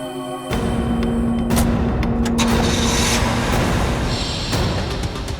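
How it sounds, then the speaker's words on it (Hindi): A car engine running loudly and steadily up close, a constant rumble with a sharp mechanical click and a brief drop at the start, with no voices. "ये गाड़ी चल रही है"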